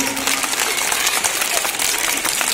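Audience clapping at a yoga dance performance by a group of boys, a dense steady applause lasting the whole moment, loud and close with crowd noise mixed in.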